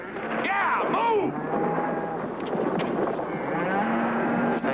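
Cows low loudly nearby in a farm field, several drawn-out moos overlapping one another, with a steady wash of background noise under them.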